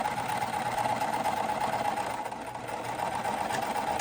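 A sewing machine back stitches across a puff quilt pillowcase, a steady close mechanical whirring hum with fast repetitive stitching, briefly slowing midway and then resuming, fairly quiet with no talking.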